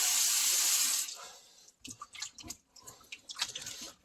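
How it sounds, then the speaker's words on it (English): Ingredients are rinsed under running tap water: a second of steady, close gushing from the faucet, then the flow stops, leaving scattered drips, splashes and wet handling noises. "Got to properly rinse them, okay."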